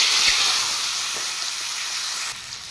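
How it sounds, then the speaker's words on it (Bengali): Sliced mushrooms fry in hot oil with a steady hissing sizzle that eases slightly toward the end, heard close and without talk. "এবার কেটে রাখা মাশরুমগুলো ফ্রাই করে নেব।"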